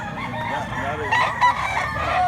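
Rooster crowing amid the bustle of a Cebu chicken market in Mantalungon, a drawn-out call rising over steady crowd murmur and clucking, with nearby voices talking throughout.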